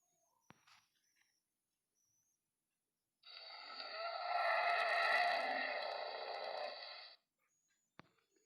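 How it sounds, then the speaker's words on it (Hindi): A pig lets out a single drawn-out, rasping grunt lasting about four seconds in otherwise quiet surroundings, with only a few faint clicks before and after. "सूअर की आवाज़ को गुर्राना कहते हैं।"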